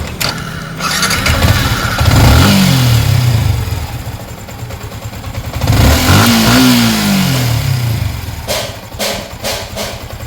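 A Yamaha Sniper 155 motorcycle engine revs hard twice, each burst climbing and falling back to a steady idle, with a few sharp clicks near the end; the engine sounds close and loud, with the owner noting a scraping noise after water pump seal work.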